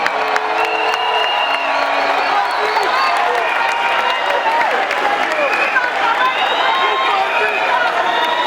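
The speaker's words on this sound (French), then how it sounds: "Applaudir la sortie du couple présidentiel" A large crowd of over five thousand in a hall applauds and cheers as the presidential couple exits, continuous clapping mixed with whoops and shouting voices throughout.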